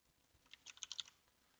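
Quick run of computer keyboard keystrokes, about eight clicks clustered in under a second, clear and close with quiet around them.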